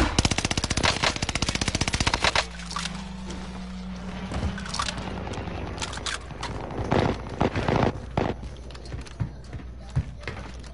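Rapid automatic gunfire in an online shooter game, a dense burst of rattling shots up front followed by scattered single and short bursts of shots, with players talking over the action.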